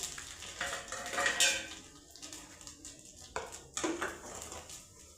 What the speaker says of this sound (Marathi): हे पहा मोहरी जिरे टाकून घेत आहे मी